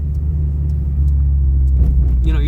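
A used car on a test drive: a steady, close engine and road rumble that holds even and continuous, with a slight rise in the final moments.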